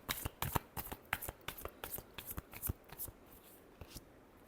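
Tarot cards being shuffled close up in a rapid burst of crisp riffles and slaps, easing into softer handling toward the end, with no voices.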